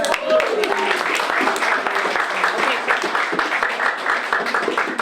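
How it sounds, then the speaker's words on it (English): A round of applause follows a poem reading at a community poetry night, a dense, steady clapping from a room full of people, fairly loud and close, with a few voices mixed in. "So round of applause for Mary Ann"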